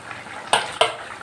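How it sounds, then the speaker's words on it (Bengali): Fried eggplant goes into a simmering potato and fish-roe curry with two sharp splashing, sizzling bursts over a low bubbling pan, close and loud. "এবার যে বেগুনগুলো ভেজে রেখেছিলাম বেগুনগুলো দিয়ে দিলাম"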